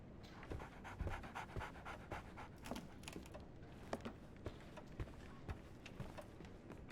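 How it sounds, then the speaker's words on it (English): Dog panting in the Sherlock Holmes The Awakened game: quick, rhythmic breathy huffs repeating steadily for several seconds, close and fairly soft, with a few light footfall-like taps mixed in and no talking. "So, Barnes has a dog now."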